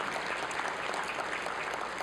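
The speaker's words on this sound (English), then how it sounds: "Thank you for the applause" Applause from the audience at an Emmy Gold and Silver Circle honors show, a soft, even patter of many hands clapping in a large room, sustained and somewhat distant with no voices.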